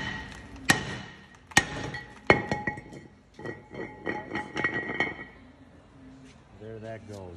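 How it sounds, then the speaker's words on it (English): Three sharp metallic hammer strikes ring out hammering off a Toyota Tacoma 4WD front brake rotor, followed by a cluster of quicker clanks and knocks on metal, with a voice briefly at the end. "we just want to hammer it out"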